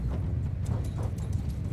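A horse gallops toward the player in Mount & Blade II: Bannerlord, its hooves making a quick, close rhythm of clip-clop beats over a low battlefield rumble.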